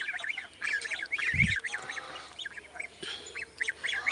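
Domestic ducks quack and honk repeatedly in a close group, a steady run of calls with a brief low thump partway through.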